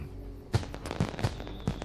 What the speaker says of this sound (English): Oh, there's the fireworks.